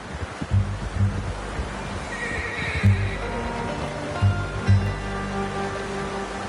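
A horse whinnies loudly in Red Dead Redemption 2 over steady ambient wash, with hoof clops sounding at intervals before and after the call.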